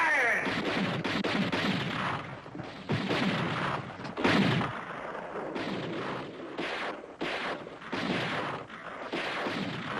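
Gunfire and artillery in a 1970 war western film scene crack and thud in repeated bursts at moderate loudness, with scattered impacts throughout and no clear speech.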